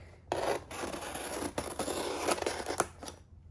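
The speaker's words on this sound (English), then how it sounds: "use a box cutter or an X-Acto knife to cut out that flap" A box cutter or X-Acto knife slices through a cardboard box flap, a close, rasping scrape that runs for about three seconds in uneven pulls with brief catches.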